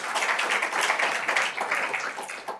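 A conference audience at a public administration school event claps briefly in response to a question, a short, lively burst of scattered hand claps lasting a couple of seconds.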